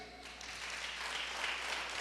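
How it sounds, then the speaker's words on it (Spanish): A church congregation applauds steadily at a distance, a soft continuous wash of clapping with no voices over it. "Denle un aplauso al Rey."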